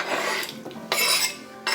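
Knife and utensil clatter against a board or dish while a tomato is cut for a pasta salad, a few short bursts of clinking and scraping close by with brief pauses between.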